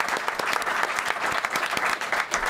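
A studio audience applauds guest Alain Choquette with dense, steady clapping that fills the room at full volume and holds evenly throughout.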